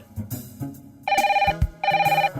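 A telephone rings in two bright electronic bursts separated by a short pause, with a low thumping sound in between and other faint sounds before.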